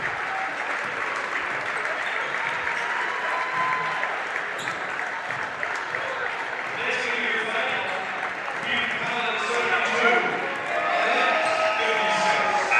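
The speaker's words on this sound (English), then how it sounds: "Give you a chance to hear the crowd and their reaction." Crowd noise fills a college basketball arena after the final buzzer, with applause and murmuring that swells toward the end, a few bounces and scattered voices mixed in.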